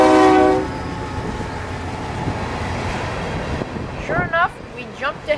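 A long freight train over 4,000 feet passes in Central Florida, opening with a loud blast of its horn, then a steady rumble and clatter of rolling cars while someone talks over it.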